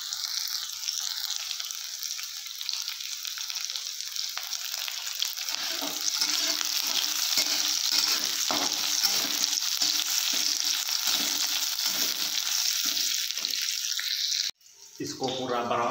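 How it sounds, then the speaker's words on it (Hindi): Chopped onion fries in hot oil as it is stirred, giving a steady close sizzle with repeated scraping strokes, ending abruptly near the end. "फिर इसके बाद प्याज डालेंगे, फिर इसको अच्छे से चलाएंगे।"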